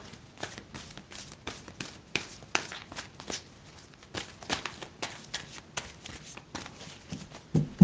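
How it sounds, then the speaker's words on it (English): Cards are shuffled in repeated quick riffles, each burst a crisp flutter of snapping card edges, close by and fairly rhythmic, with no talking. "I'm going to shuffle 3 times, my lovelies, and then we put the cards back"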